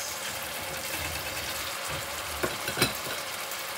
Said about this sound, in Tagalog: igisa muna natin kamatis at sibuyas